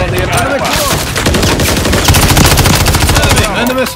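Heavy automatic gunfire fills a Call of Duty: Modern Warfare III multiplayer match, with loud, close, continuous rapid bursts lasting the whole four seconds and the game's radio chatter faint underneath.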